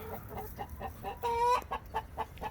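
Backyard chickens cluck in a steady string of short, soft calls, with one louder drawn-out squawk in the middle, close by and fairly quiet, no voices.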